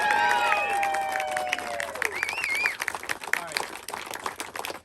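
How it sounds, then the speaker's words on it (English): Crowd at a political fundraiser gathering applauds and cheers for newlyweds, with shrill whistles and whoops over scattered clapping that grows choppier toward the end, voices mixed in. "can we get a round of applause for the newlyweds?"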